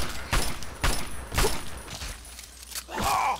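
A weapon fires in Fallout 3 as a run of separate sharp shots spaced about half a second apart, with a voice talking between them.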